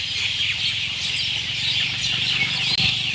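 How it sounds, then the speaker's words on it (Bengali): Dense bird chatter fills a bamboo grove in a graveyard at dusk as birds gather to roost, a steady high twittering chorus with fowl-like clucks low underneath, continuous and fairly loud throughout. "পরন্ত বিকেল গড়িয়ে যাওয়ার পরেই পাখিদের আনাগোনা আস্তে আস্তে শুরু হয়েছে এই বাঁশবাগানে"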